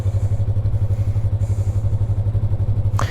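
A 2020 Yamaha MT-03 naked motorcycle idles with a steady, even low throb, close and continuous, and a brief sharper burst comes near the end.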